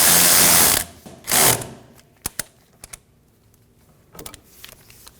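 A ratchet snugs the brake hose bracket bolt on a 2014-2023 Ford Transit Connect rear hub, giving a few sharp, quick clicks after two short broad bursts, close by with no talk.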